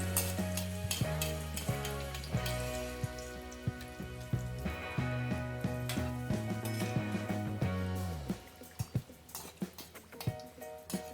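Karanji (gujiya) pastries frying in oil over a medium gas flame, a steady close sizzle with light crackles. A sustained musical tone plays over it and fades out near the end, leaving the bubbling oil alone.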